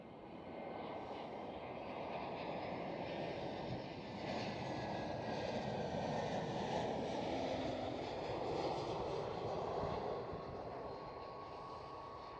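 An EasyJet Airbus A320 passes at Schiphol Amsterdam, its jet engines making a loud, steady roar that holds for the whole stretch with no talking over it.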